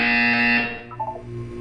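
A synthetic electronic buzzer from the video game Portal 2 sounds as one steady, loud tone that cuts off after about half a second. A few softer electronic blips follow against a quiet background.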